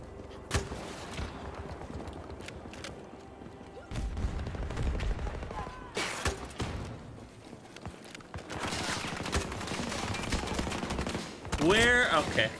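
Grenade launcher fire in a video game, scattered sharp bangs and bursts of blasts among game sounds, with loud rumbling stretches and brief rising tones near the end, and a voice now and then.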